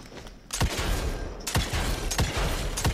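Rapid, loud gunshots ring out in Evil West: a broad burst of fire followed by several sharp, evenly spaced cracks over a dense, noisy combat background.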